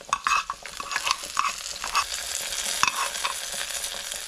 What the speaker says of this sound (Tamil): இந்த தாளிப்பை சேர்க்குறோம்.